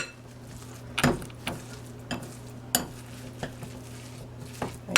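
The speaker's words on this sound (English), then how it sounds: "Just basically mixing it all up." Salmon patty mixture being mixed with egg in a bowl for fried salmon patties, heard as a few sharp utensil clinks and scrapes against the bowl at irregular intervals over a low steady background hum.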